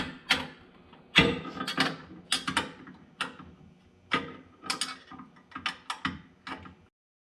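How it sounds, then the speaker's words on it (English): A half-inch combination wrench snugging down carriage bolt nuts on a Jeep JT bed rack cross member, heard as close irregular clicks and metallic ratchety taps in short bursts. "I'm gonna take my 1/2-inch combo wrench and I'm gonna snug down our carriage bolt nuts in here on each side"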